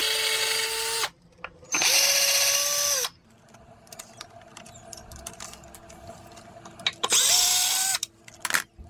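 A power drill backs out pedal hanger screws, running in three loud whining bursts of about a second each, rising in pitch as the screws loosen, with quiet clicks and handling noise between them.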